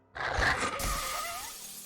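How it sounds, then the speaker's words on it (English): A mirror shatters into shards: a sudden loud crash bursts in after a brief silence, then a bright, sustained rush of breaking glass and scattering debris that slowly thins out, with no voices. "she heard the crash of a mirror shattering into 100 little shards"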